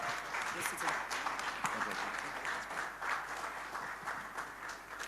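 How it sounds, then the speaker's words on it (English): A round of applause from guests at a foundation launch held at the Meikles Hotel, a fairly faint, continuous crowd clapping that swells slightly in places with voices murmuring underneath. "Let's give him a round of applause"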